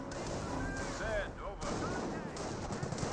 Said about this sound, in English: Ooh, rifle grenades.